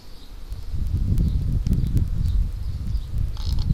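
Honeybees buzzing around an opened hive during a summer inspection, a low continuous hum swelling and fading close by, with scattered rustles and faint clicks.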